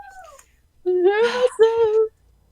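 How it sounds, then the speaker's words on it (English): A cat yowls: one long, wavering, drawn-out cry with a brief break in the middle, loud and close, after a few softer falling sounds. "Sounds like a cat is dying out here."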